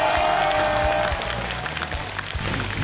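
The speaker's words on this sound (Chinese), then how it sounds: "来，用热情掌声欢迎一下二位" A studio audience at a Chinese comedy show breaks into steady applause, a dense wash of clapping that fills the whole moment and eases slightly toward the end, with no talk over it.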